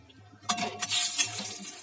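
Bay leaves and dried red chillies drop into hot oil left over from frying prawns, bursting into a bright, crackling sizzle that swells and then holds as a steady, close hiss with faint clinks from the pan.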